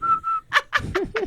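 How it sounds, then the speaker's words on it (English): A person whistles a short melodic phrase, a steady held tone followed by a few quick rising and falling notes, close and clear with no talk over it. "Whistle while you scroll."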